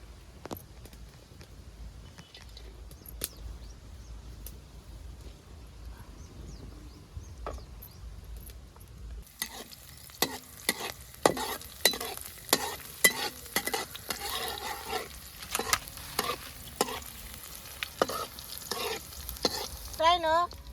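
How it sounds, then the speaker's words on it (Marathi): Green chillies fry in oil in a pan, quiet at first, then a crackling sizzle with repeated knocks and scrapes of stirring starts midway and continues steadily to the end. "आता मी मिरच्या परतून घेते"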